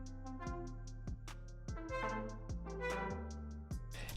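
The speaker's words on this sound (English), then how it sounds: "The second patch is a brass from the Trap and Pop preset back from Serum" Brass synth patch from the Serum Trap and Pop preset plays a steady chordal riff with a deep low layer, slightly glitchy, bright stabs repeating about every half second, loud and alone.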